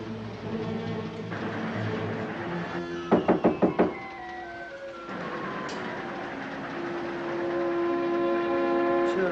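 Five sharp knocks rap on a compartment door aboard a moving train, loud and evenly spaced, over the constant rumble of wheels on the rails.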